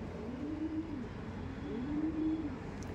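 A tournament pigeon with a fine head shape coos in two long, low rolling calls, fairly near, over a steady background hum.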